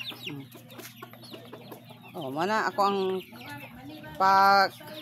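Chickens cluck and squawk around a home yard during daily chores, with a few loud, close bursts over a steady low hum, while a person speaks briefly.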